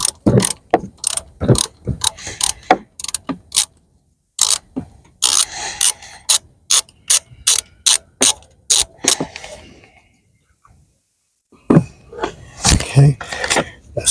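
A ratchet spins a nut loose on a Mazda 6 SkyActiv turbo, giving rapid, loud clicking bursts close up with short pauses between strokes and a quiet gap before the final run of clicks.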